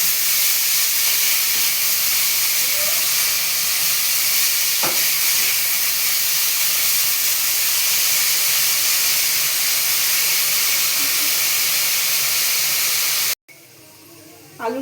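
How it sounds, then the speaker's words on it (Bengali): Potatoes frying in a pan for a fasting-day sago recipe give a steady, loud hiss and sizzle that runs unbroken for most of the stretch, then cut off abruptly near the end. "এবার আলুটাকে আমি ভেজে রাখবো।"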